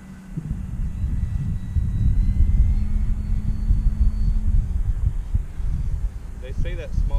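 A small RC Pitts biplane model on a 4S battery comes in to land, heard as a steady motor whine and rumble under wind noise, with a voice talking near the end.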